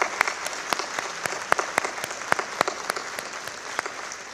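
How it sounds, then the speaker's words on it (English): Audience applause at a distinguished alumni awards ceremony, a steady patter of many hands clapping at moderate distance, filling the room evenly without voices. "So let's give them one more round of applause tonight."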